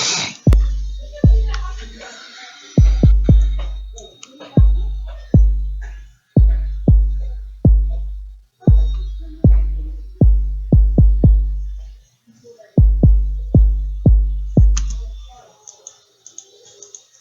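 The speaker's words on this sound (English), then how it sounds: "then I have another kick." A kick drum sample programmed in FL Studio thumps out a repeating beat pattern of deep, booming hits in short clusters, with faint clicks and mouse-like ticks around it.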